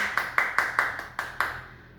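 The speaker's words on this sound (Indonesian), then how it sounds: "Beri tepuk tangan kepada teman-teman kalian yang telah menjawab pertanyaan Ibu tadi." Students in a classroom clap in several sharp, evenly spaced bursts, about seven crisp claps of a small group, fairly faint and trailing off into quiet.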